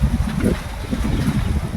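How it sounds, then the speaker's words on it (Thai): Steady wind gusting outdoors on a farm field, a broad low roar buffeting the microphone with uneven surges throughout, no voices. "ตอนนี้ก็ลมว้อยๆเนาะพี่น้องเนาะ ลมว้อยๆแต่มื้อนี้ก็ถือว่าโชคดีเนาะมีลม"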